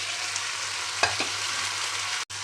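Boiled broad beans frying with onions in a pan, a steady soft sizzle with a brief clatter as they go in, no voices.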